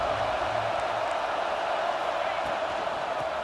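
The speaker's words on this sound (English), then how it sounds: "This crowd bringing the energy and noise early." A packed college football stadium in the College Football 26 video game roars with a constant, dense wash of crowd noise, steady and loud throughout without any distinct peaks.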